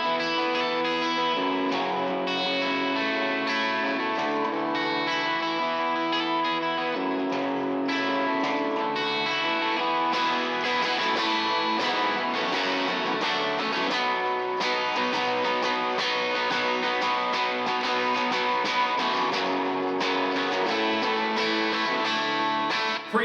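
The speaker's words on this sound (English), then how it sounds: "you can really hear the electric guitar doing a lot of picking" Electric guitar played with busy picking through a Kemper profiler, with delay and reverb; a dense, sustained distorted tone rings steadily and loudly throughout, with no voices.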